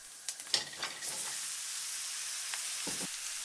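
Chicken drumsticks dropped into hot oil with ginger set off a steady broadband sizzle, with a few clattering stirs near the start and a couple of later knocks, close and fairly quiet.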